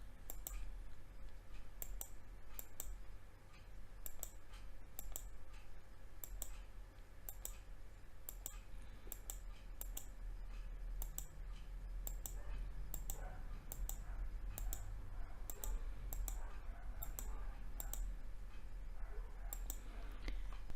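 Regular computer mouse clicks while selecting around an eye's pupil in photo-editing software, crisp small taps repeating steadily over a low background hum.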